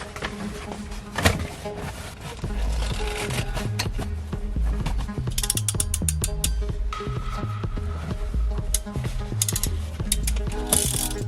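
Wires for a Ford F-150 subwoofer and radio install are cut to length and fitted with ring terminals, heard as close, repeated ratcheting clicks and snipping from a crimping tool in steady bursts, with no talk.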